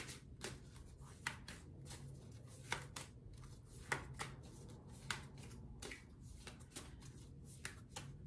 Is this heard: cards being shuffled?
yes